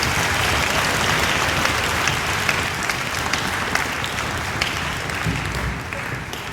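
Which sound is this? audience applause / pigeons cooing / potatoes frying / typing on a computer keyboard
audience applause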